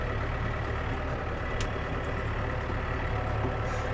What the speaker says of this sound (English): give the engine a bit of time to warm up